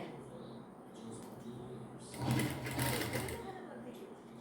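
Sewing machine stitching folded fabric sleeves with a one-inch double fold, a steady mechanical whir that swells loudest midway through, with a voice speaking over parts of it.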